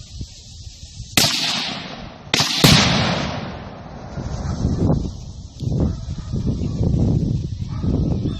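Tannerite target set with a golf ball downrange detonates as sharp loud blasts, a couple of cracks in quick succession with a trailing echo and rumbling noise afterward.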